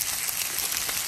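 Sausages and onion sizzling in a small camping pan outdoors while wild camping, a steady close crackling hiss with no break.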